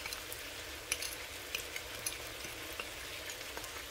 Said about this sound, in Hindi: और चिकन को फ्राई कर रही हूँ।